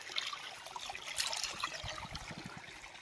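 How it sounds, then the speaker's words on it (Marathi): Natural hot spring water pours steadily from a pipe at an enclosed spring, a continuous splashing trickle heard close with no talk. "या पाईपद्वारे हे जे पाणी पडतं आहे हे निसर्गाचा एक चमत्कारच आहे"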